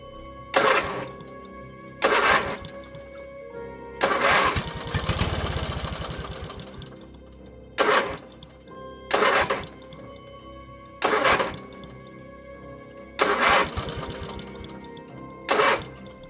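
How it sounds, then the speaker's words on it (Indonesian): A motorcycle engine sputters in repeated short bursts, about eight attempts at a start with one longer rumble, each cutting out after a second. "Sekuat tenaga, dirinya mencoba menghidupkan motornya."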